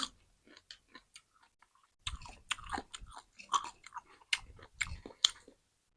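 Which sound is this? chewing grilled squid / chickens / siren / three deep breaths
chewing grilled squid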